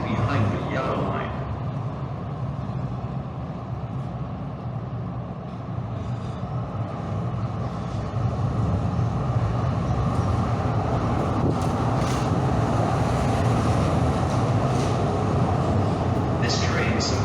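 A train pulls into a station platform, its broad rumble and rolling noise steady throughout and growing a little louder in the second half, with a brief hiss near the start and end and a public address voice over the top.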